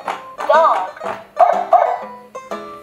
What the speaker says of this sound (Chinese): 小狗 dog